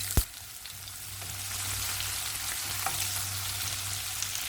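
Sesame oil sizzling steadily as urad dal, mustard seeds, a few peppercorns, dried and green chillies and onion temper in it, a sharp knock at the start then a continuous crackling fry with no voices.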